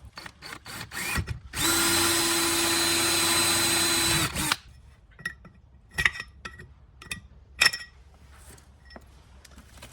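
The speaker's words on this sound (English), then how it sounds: "I think I just drilled a couple holes in here" A power drill bores holes through an alloy MAF housing during a mass airflow sensor upgrade on a CA18 Silvia S13, whining steadily and loudly for about three seconds. Clicks, clinks and handling noises come before and after it.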